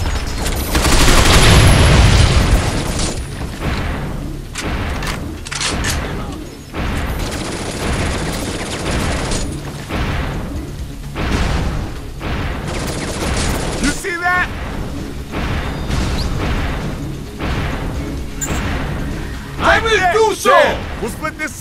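Bursts of automatic weapon fire and booming blasts from a Binary Domain firefight, loud and dense, with heavy volleys breaking into gaps and scattered shots, voices shouting over the combat.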